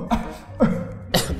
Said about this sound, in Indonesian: Jangan bercanda Mas, saya lagi batuk.